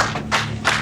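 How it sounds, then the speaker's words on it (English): Several people on a police team clap together in a short, close burst of applause, with two louder surges of hand claps and no talking. "they broke into a round of applause"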